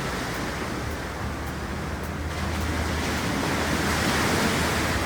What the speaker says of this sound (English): I haven't seen the waves calm down on me.